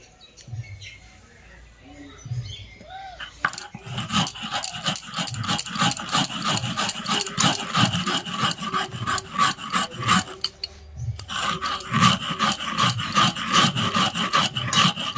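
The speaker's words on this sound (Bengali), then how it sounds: "এবারে আমি এর মধ্যেই চিনিটাও গুঁড়ো করে নিচ্ছি।" Sugar is ground to powder in the same grinder jar just used for crushing biscuits while making a cake at home, producing a steady, close, gritty rasping whir that starts after a few seconds and stops briefly midway before resuming.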